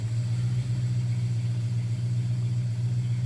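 Chevrolet Nova SS engine fitted with Holley Sniper EFI idling steadily at about 850 RPM at full operating temperature, a loud, close, even low rumble with no speech.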